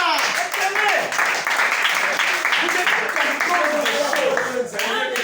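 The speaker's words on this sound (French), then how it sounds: "Acclamez pour Timmy." Applause for Timmy at a gathering: dense, sustained clapping throughout, with voices and cheering mixed into the crowd noise.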